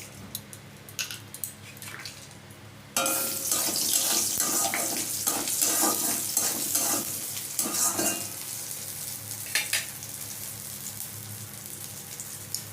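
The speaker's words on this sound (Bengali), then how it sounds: "এবার কড়াইতে সামান্য একটু সর্ষের তেল দিয়ে" Black mustard seeds hit hot mustard oil in a kadai and burst into a loud, crackling sizzle after a quieter start, with scattered sharp pops and stirring scrapes that ease off slightly toward the end.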